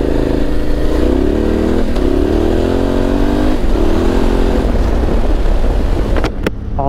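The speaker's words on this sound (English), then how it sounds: "Okay, you gotta listen to the bike." A motorcycle engine runs loud and close, climbing through several revs in rising steps before settling. Wind buffets the microphone throughout, and no one speaks.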